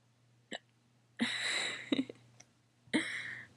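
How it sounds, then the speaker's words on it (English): Hiccups from a person: a short sharp one early, then a longer breathy sound with a couple of quick hiccup catches, and another hiccup near the end, close and clear over a faint steady hum. "Oh my god, I have the hiccups."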